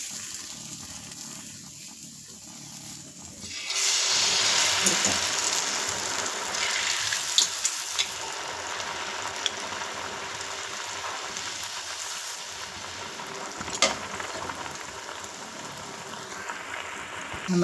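Rose cookie batter frying in hot oil bursts into a loud, steady sizzle after a quiet start, hissing continuously with scattered pops and crackles.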